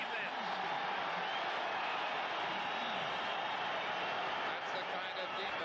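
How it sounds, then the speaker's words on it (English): A large football stadium crowd roars continuously, cheering the New York Jets defense as Miami's punting team takes the field, with a steady dense wash of voices and a commentator speaking over it. "the Jets cheer the defense"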